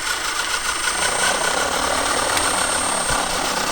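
Hobby electric motor running at high torque, a steady loud whirring drone with engine-like vibration throughout and a brief sharper surge near the end.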